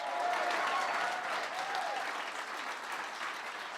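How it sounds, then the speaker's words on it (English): A summit audience breaks into loud, sustained applause for a child named Alasia, dense clapping filling the room steadily from start to finish with no voices over it. "Give Alasia a big round of applause."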